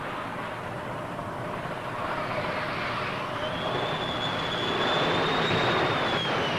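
Phantom and Buccaneer jets recovering aboard the carrier HMS Ark Royal in 1974: a steady broadband jet roar that swells toward the end, with a rising whine as an aircraft approaches the deck.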